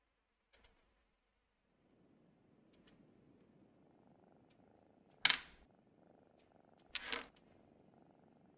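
A cat purrs softly and steadily in the Agent A puzzle game, a quiet continuous rumble broken by two brief louder clicks or knocks.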